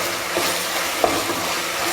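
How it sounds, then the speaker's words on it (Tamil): Onions, garlic, green chili and curry leaves sauté in a pan, giving a steady, close sizzle with stirring scrapes throughout and one brief sharp clink midway. "இப்போ இதெல்லாம் சேர்த்து கொஞ்ச நேரம் நல்லா வதக்கிடுங்க"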